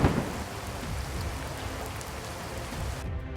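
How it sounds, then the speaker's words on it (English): Heavy thunderstorm rain pours steadily with a dense hiss and low rumbling underneath, loud and continuous before cutting off abruptly at the end. "Is this just a storm, or is there something bigger and scarier lurking just beyond our field of vision?"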